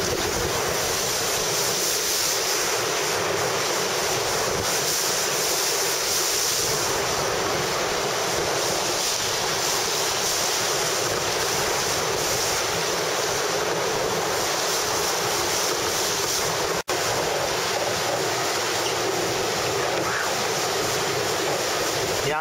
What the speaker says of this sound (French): Il y a un peu de vent là, Luce, ou pas?